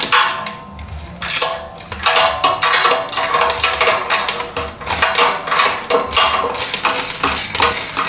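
A ratchet loosening a nut on a Motobox Racing exhaust of an Aprilia RS660 or Tuono 660 motorcycle, sharp rapid metallic clicks in uneven bursts, close and fairly loud, with no talking.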